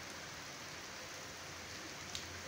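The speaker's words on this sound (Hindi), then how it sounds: "कसूर रोड पे सुबह 5 बजे की बारिश शुरू है।" Early-morning rain falling on Kasur Road, a faint, even hiss of steady rainfall with no distinct drops or voices standing out.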